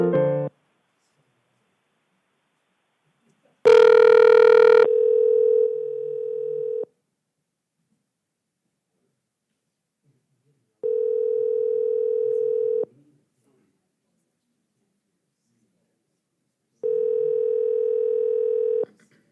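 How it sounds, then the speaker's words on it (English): Telephone tones during a call transfer: a short burst of ringing followed by repeated steady electronic tones with long silent gaps between them, clear and close. "I'm going to transfer you to our agent, Wayne Tannenbaum."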